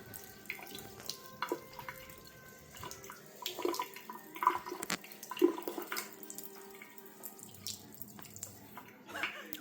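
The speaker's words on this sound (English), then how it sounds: "I've sort of rigged up a system that will allow me to eject water" Water spraying out of a rigged release system on a paraglider harness during flight, heard as irregular splashing and trickling bursts with rushing wind noise in the background.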